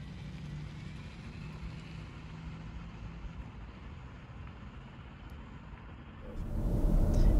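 A Skoda Octavia iV plug-in hybrid saloon with 204 PS drives on electric power, giving a low, even road rumble inside the cabin with a faint whirr, then swelling louder near the end.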